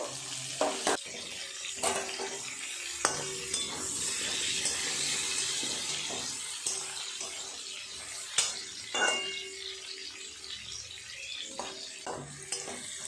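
Potatoes frying in oil for an echor-and-prawn dish sizzle steadily in a pan, with sharp clinks and scrapes of stirring breaking through and occasional water-like hiss.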